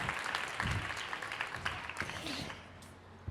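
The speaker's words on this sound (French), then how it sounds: "Je voudrais qu'on les applaudisse" An audience at a women entrepreneurs' summit stage event in Dubai claps in a sustained burst of applause that fades toward the end, moderately loud and fairly close.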